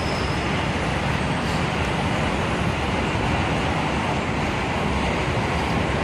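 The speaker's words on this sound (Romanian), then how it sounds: "Acum trece trenul" A freight train passes nearby, a loud, steady broadband rumble and roar that stays constant throughout without speech.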